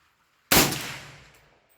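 A single AK-47 SBR rifle shot with a hot FMJ handload fired at body armor from 50 yards cracks sharply and loudly, then rings and echoes away over about a second outdoors.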